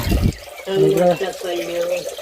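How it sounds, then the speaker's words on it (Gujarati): Water is poured off cooking rice in a home kitchen, a short splashing rush at the start, then a quieter running trickle while a voice talks over it. "આ પાણી કાઢ્યું"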